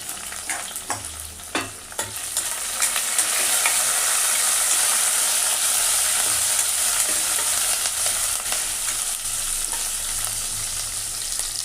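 Lentils frying in a pan for tomato dal give a steady, close sizzle that swells after the first couple of seconds and holds loud and even, with light stirring scrapes mixed in.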